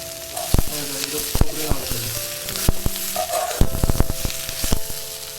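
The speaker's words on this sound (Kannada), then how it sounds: "ಟೊಮೊಟೊನ ಫ್ರೈ ಮಾಡಿ." Tomatoes fry over a low flame in a pan for a chicken gravy, a steady sizzle broken by repeated scraping and knocking of a spoon stirring against the pan, close and without talk.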